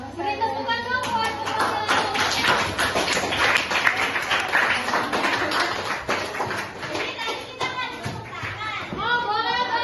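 Students in an Indonesian madrasah classroom clap in a burst of applause, sharp overlapping hand claps close by mixed with chatter and children's voices, fading as talk resumes.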